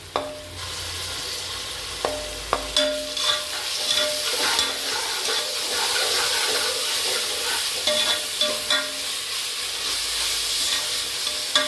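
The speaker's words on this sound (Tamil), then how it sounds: "வெங்காயம் நல்லா இப்போ நல்லா வெங்காயம் வதங்கி மசாலா போட்டுக்கலாம்" Onions and masala frying in a pan, a continuous close sizzle broken by repeated scraping and tapping as a spoon stirs the mixture, with no voices.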